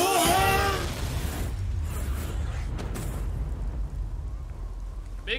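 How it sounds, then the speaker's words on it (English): An explosion in the video game Resident Evil Village, a loud burst at the start that fades into a long rumbling, crackling tail. "Big kaboom."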